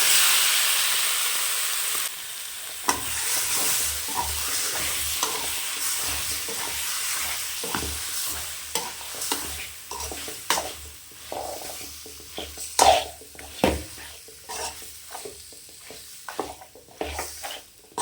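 Mutton sizzling with mutton masala and curry masala in a pan over low heat, a steady frying hiss broken by scraping stirs and clanks that come in bursts.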